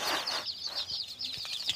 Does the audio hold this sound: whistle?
no